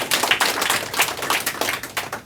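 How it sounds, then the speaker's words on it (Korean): Audience applause of thanks at a Korean business seminar, a dense, steady patter of many hands clapping together without pause and no voices over it. "우리 감사의 큰 박수 부탁드리겠습니다"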